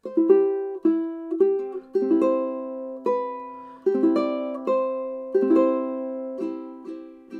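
Fingerstyle ukulele playing the chorus of a song, with plucked notes and light chord clusters ringing out in a gentle, steady rhythm, close and clear with no voice.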